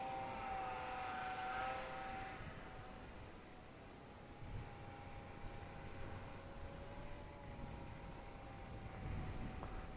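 An Eachine Mini P47 Razorback 500mm gyro-stabilised RC plane flies in a gusty crosswind on an old battery. Its thin electric motor whine holds a steady, wavering pitch for the whole stretch over constant wind rumble.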